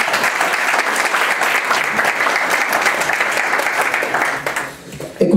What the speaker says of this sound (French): J'aimerais que vous les applaudissiez pour les remercier.